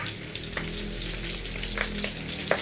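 Onion and garlic sautéing in a pan for Filipino pork adobo, a steady close sizzle of frying with a few soft stirring scrapes and clicks throughout.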